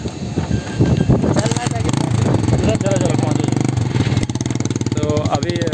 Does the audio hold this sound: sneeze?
no